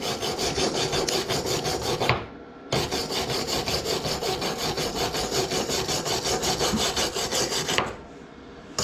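A brush scrubs a metal minibike part during fabrication, in steady, close, rasping back-and-forth strokes that are loud and continuous, broken by two brief pauses.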